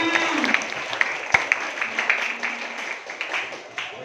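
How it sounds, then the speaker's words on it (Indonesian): Classroom audience applauding a student at a school session on clean and healthy living, a steady wash of clapping with a few sharper claps standing out and a voice speaking briefly over it. "Tepuk tangan buat Mbak Azima"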